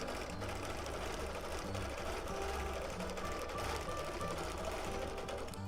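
A sewing machine runs steadily while free motion quilting with ruler work, its stitch length set to 12. The fast, even mechanical hum and needle chatter are close and continuous, with no pauses.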